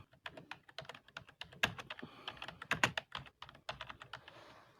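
Rapid, uneven keystrokes clatter on a computer keyboard while text is typed, with bursts of close, crisp clicks and short pauses between them, and no talking.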